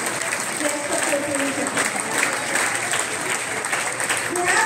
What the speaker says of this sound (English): A big round of applause for our honorable